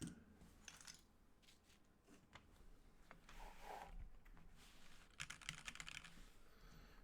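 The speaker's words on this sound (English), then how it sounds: "stream the typing test" Rapid, faint clicking of a custom mechanical keyboard fitted with stock Tealios V2 switches, typed on continuously during a typing test, with no talking.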